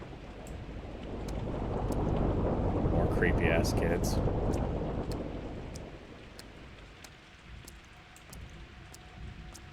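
Rain and a low rolling thunder rumble swell and fade in the Pathologic 2 video game, with steady patter and faint clicks beneath a voice talking over the storm.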